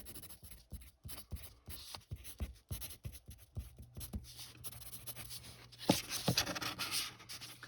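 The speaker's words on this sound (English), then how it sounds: "Here is a Mongol F, very standard pencil." A standard Mongol F graphite pencil scratches across plain white paper in quick, irregular strokes, close and fairly quiet, with light rhythmic scribbling throughout.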